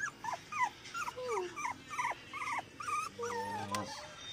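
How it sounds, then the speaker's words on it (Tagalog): A chihuahua puppy whimpers in a series of high, thin whining cries close by, with a short squeaky yelp near the end. "Uy, may tuta pa doon."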